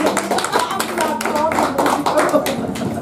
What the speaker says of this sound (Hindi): तालियां बजाते हैं आप लोग